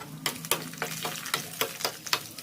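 A thick sweet jaggery-style mixture for traditional pongadalu being stirred in a pan, with a soft steady sizzle and repeated scraping strokes roughly every quarter second, close and moderately loud, no talking.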